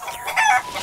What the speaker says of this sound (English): Oh, cluck! Oh, cluck, it's a fox! Clucked Henrietta